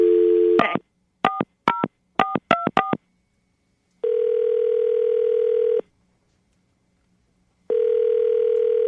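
A landline phone goes through a call: a short dial tone, then a quick series of keypad tone beeps in uneven clusters, followed by two long, steady ringback tones separated by silence.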